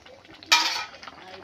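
Egg and soybean curry stirred in a pan, a brief scraping, clinking burst of spoon against metal lasting about a third of a second, then fading to quiet kitchen background.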